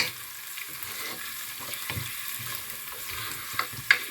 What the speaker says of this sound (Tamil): அடுப்பை நல்லா குறைச்சி வச்சு மெதுவாக தாளியுங்கோ